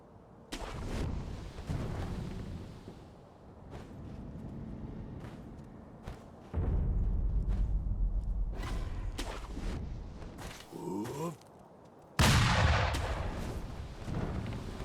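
Enemy gunfire in the video game Sekiro, a series of sharp cracks and booms scattered through the stretch, with a louder burst near the end over game ambience.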